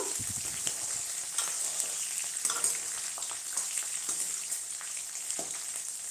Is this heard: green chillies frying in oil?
yes